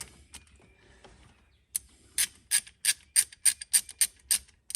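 Ratchet tightening a bracket bolt on a Ford Explorer Sport Trac, a few faint clicks then a run of sharp, evenly spaced ratcheting bursts, close and clear with no talk.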